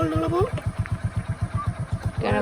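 A new TVS Jupiter scooter engine chugs in a steady, rapid pulsing rhythm close by, with a voice briefly heard at the start and end.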